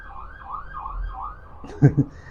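A wailing siren sweeps up and down steadily, moderately distant, followed by a couple of sharp louder knocks near the end.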